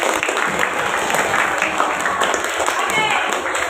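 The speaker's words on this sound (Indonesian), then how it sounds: "Tepuk tangan lagi." Applause from a primary school class as pupils clap for a classmate, steady dense clapping filling the whole stretch with voices mixed in underneath.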